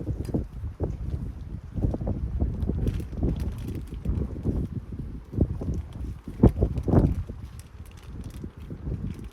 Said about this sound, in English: It's going to be a little sketchy with the wind